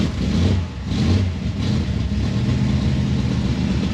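A Ford Mustang engine freshly fitted with a new carburetor and manual choke runs loud and close, with a steady low rumble that rises in a few revs before settling into an even idle.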